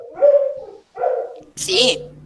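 Pet dog whining and whimpering indoors, three short high-pitched cries in a row, close and fairly loud, with a sharp yelp-like burst at the end.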